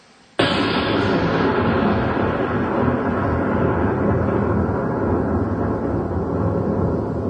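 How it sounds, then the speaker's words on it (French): A deafening thunderclap sound effect bursts in sharply after a brief silence, then rolls on as a loud, broad, sustained rumble that barely fades over several seconds. "il a disparu dans un coup de tonnerre assourdissant"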